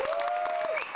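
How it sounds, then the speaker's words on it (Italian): Applause from a conference audience greeting Andy of the Yes Men at the HOPE conference in New York, a short dense burst of clapping with a steady tone running through it. "Facciamogli un applauso."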